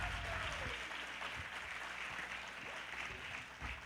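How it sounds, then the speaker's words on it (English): Sustained applause from a recital audience at a music academy event, a dense steady wash of many hands clapping throughout with a few louder claps standing out. "Give her a round of applause one more time."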